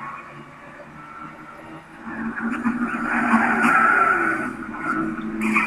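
Race cars in Gran Turismo 6 roar steadily as one car strikes another, the engine noise swelling louder from about two seconds with a skidding, scraping texture and no talk.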